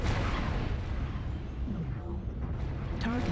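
Mech weapons fire hammers a turret in the MechWarrior Online video game, a dense, continuous barrage of deep booming rumbles and blasts, with a voice briefly heard near the end.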